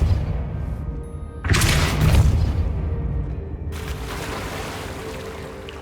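A Depulso force spell cast in Hogwarts Legacy bursts out as a sudden booming whoosh, a loud broadband blast that swells and then fades into a lingering rumble before a second wash of noise.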